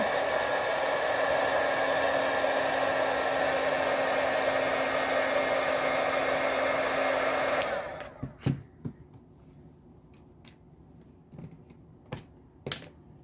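A heat gun blows a loud, steady rush of hot air onto a pearl set in a ring for several seconds, then switches off. Light clicks and small handling taps follow in the quieter stretch.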